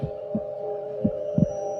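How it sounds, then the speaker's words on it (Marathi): Deep, muffled heartbeat thumps pulse irregularly over a steady low hum, four beats in under two seconds. "दादाचे हृदयाचे ठोके वाढले"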